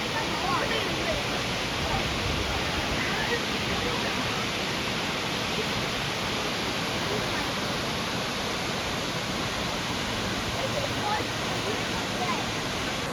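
Shannon Falls waterfall, a loud continuous broadband rush of falling water, steady and unbroken, with a voice faintly beneath it.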